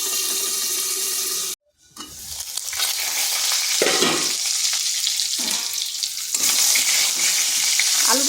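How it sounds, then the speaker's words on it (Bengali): Potatoes fry in oil in a covered pan for a vegetarian jackfruit curry, a steady close sizzle broken by a brief silent gap near the start, then continuing with shifting intensity. "আলুটা একটু লাল লাল করে ভাজা ভাজা করে নেব।"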